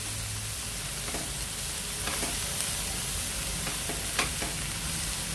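Sliced onions sautéing in a pan for tomato chutney, giving a steady soft sizzle with a few light clicks of stirring, close and unaccompanied by speech.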